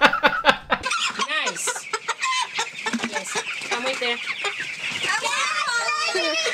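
A chicken clucks in rapid, busy bursts, close and fairly loud, while people talk over it.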